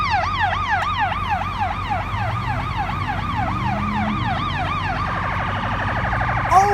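An ambulance's wailing siren sweeps up and down repeatedly, loud and passing nearby, then shifts to a faster yelp pattern as it goes by on the street.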